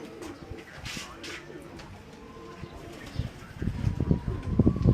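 Pigeons coo in low repeated murmurs on a rooftop loft, with rustling and scuffling growing louder toward the end and a voice talking intermittently.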